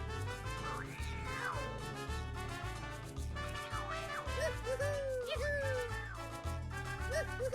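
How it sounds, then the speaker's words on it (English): Cartoonish cat meows in the puzzle-platformer Type:Rider, several rising and falling yowls over a busy, continuous game music bed with a steady bass pulse. "the cat's trying to eat us."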